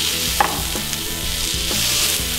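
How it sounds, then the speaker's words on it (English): Steak bites frying in butter in a hot pan, a steady loud hiss and crackle with a couple of sharper pops and a faint tonal hum underneath, close up and without talk. "take our steak, cook it down a little bit"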